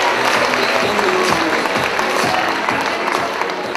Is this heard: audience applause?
yes